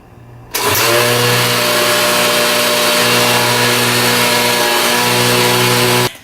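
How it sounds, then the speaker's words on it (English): A blender starts abruptly and runs at a loud, steady whir for about five seconds, pureeing sweet potato and carrot soup, then cuts off, with no talking over it. "Here we go again, blender."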